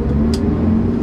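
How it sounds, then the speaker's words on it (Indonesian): A 2018 Toyota Avanza engine hums steadily as the car accelerates in first gear, a close, even drone with a couple of faint clicks. "Suara mesinnya masih enak ya, masih standar Avanza ya"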